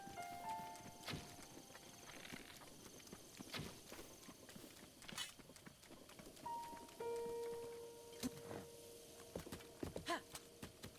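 Horse hooves clip-clopping at a walk in Zelda: Breath of the Wild, a soft irregular patter of steps at moderate distance under light rain-like ambience and occasional chimes.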